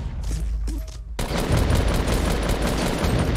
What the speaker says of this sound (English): he shredded me with that SMG